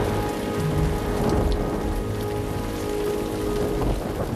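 Steady rain falling and pattering on surfaces outdoors in wet, cloudy weather, a dense continuous hiss of drops with no voices, evenly loud throughout.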